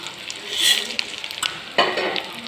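Chillies, garlic cloves and ginger pieces sauté in a hot pan for a chutney, giving a steady close sizzle broken by a few sharp scrapes and clinks of a spoon stirring against the pan.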